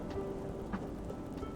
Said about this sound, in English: it's been stormy here for like the last 24 hours